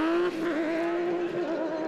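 The internal combustion engine of a Trophy Andros ice-racing car driven by Jean-Baptiste Dubourg howls loudly at high revs, with pitch wavering as it shifts and holds, close and sustained.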